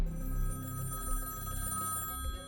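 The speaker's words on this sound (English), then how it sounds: "The phone rang, and Andy interrupted his conversation with Valerie to answer it" An old-fashioned telephone bell rings in a steady continuous trill, close and moderately loud, over a faint low background hum.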